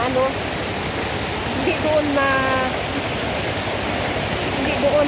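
A strong river current rushes over large rocks in a steady, loud, hissing roar, with people talking briefly over the water.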